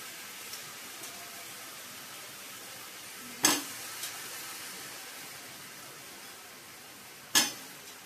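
Sweet potato pieces fry in a pan for South Indian sambar, with a low steady sizzle and two sharp utensil scrapes against the pan.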